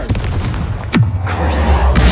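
A single deep boom from a Confringo fire spell goes off in Hogwarts Legacy, landing under a shouted incantation amid low rumbling game ambience, with a fainter second burst following.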